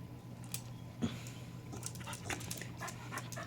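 A tired dog pants close by in quick, rhythmic breaths after playing in a homemade sprinkler, with light tapping and shuffling under a steady low hum.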